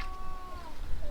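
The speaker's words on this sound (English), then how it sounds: "I can hear a cat." A cat meows once, a drawn-out, wavering cry at moderate distance over a low background rumble.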